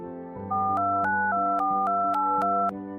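Phone buttons are pressed to dial a number, a run of about seven short beeping tones in quick steady rhythm, each a distinct pitch pair, clear and close over a soft background hum.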